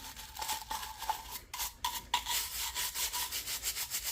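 Wooden parts of a Savage 1921 pump-action 12-gauge shotgun being rubbed clean of dirt, producing quick close-up back-and-forth scrubbing strokes in an uneven rhythm, with no talking.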